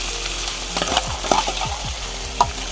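Crab frying with onions in a pan: a constant sizzle with repeated scraping stirs and clacks of a utensil against the pan, close and fairly loud.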